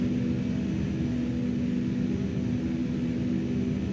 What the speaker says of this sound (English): air conditioning coming through.